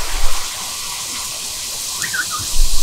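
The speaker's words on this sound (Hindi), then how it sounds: "वीडियो बंद करना पड़ेगा, बारिश हो रही है बट हम वीडियो बनाकर जाएंगे।" Rain falls outdoors as a steady, even hiss throughout, with no voices over it.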